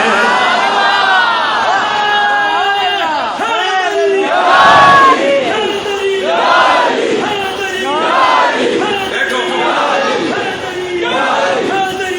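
A large gathering at Akbari Masjid in Rawalpindi, during a Milad event, chants a religious slogan together in loud, rhythmic repeated phrases with rising and falling group voices.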